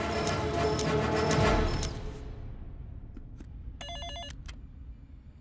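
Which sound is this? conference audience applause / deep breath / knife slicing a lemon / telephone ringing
telephone ringing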